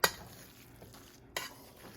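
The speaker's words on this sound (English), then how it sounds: "Let me get my fork. And let me stir that in there" A fork scrapes and clinks against a pot while stirring wild rice with mushrooms, with two sharp metallic taps and soft scraping between them.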